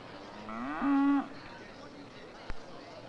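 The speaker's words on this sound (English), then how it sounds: "the cattle market begins in the early hours of the morning" A single cow moos at a French cattle market at Villers-Bocage, one clear mid-length low call over faint background bustle, followed by a brief knock.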